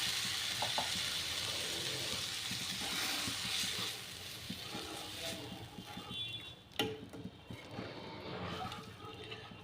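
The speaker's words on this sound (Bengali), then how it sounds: "এবার আমি ডালটাকে ঢেলে দেব। আমি ডালটাকে ঢেলে দিয়েছি।" Cooked dal poured into a hot pan over tempered spices sizzles and bubbles steadily at close range, fairly quiet, with a few stirring clinks toward the end.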